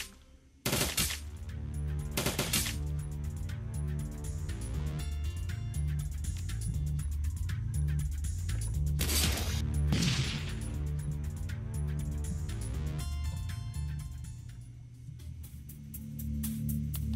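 Turret gunfire in Shadowrun: Dragonfall, heard as sharp loud bursts near the start and middle over a steady humming game soundtrack with a continuous pulsing mechanical bed throughout.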